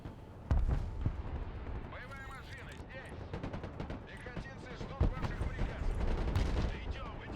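Artillery and gunfire in the video game Broken Arrow during a Soviet tank assault, heavy booms and rapid shots crackling in dense bursts, loud and busy throughout.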